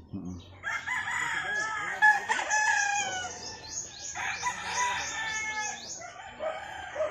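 A Black Hatch gamefowl bullstag of the high-station type crows repeatedly, loud and close, with several drawn-out calls and a few clucks in between, against a quiet background.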